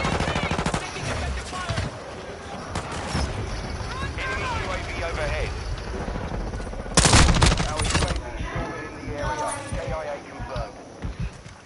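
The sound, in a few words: automatic gunfire from a 100-round magazine in a video game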